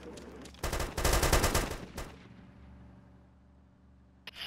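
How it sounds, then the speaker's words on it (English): Bursts of rapid gunfire from a shooter video game, loud and close for about a second and a half, then a rumbling decay and a faint trailing tail with a sharp click near the end. "the terrorists are shooting at me"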